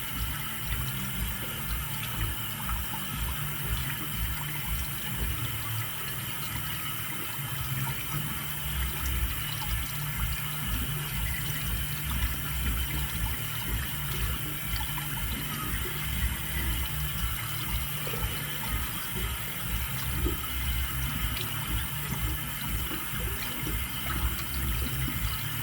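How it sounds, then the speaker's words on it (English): Tap water running steadily into a sink as a face is rinsed with warm water, a continuous close hiss and splash with faint uneven splashing, no talking. "going to rinse with warm water first, and then we are going to put just a little bit of cold water"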